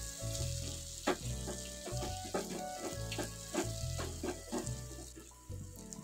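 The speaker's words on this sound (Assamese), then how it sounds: "কম জুইত ভাজি আছোঁ" Fish oil curry frying gently on a low flame in a pan, a soft continuous sizzle with scattered bubbling pops and faint stirring sounds, close and steady beneath low background music.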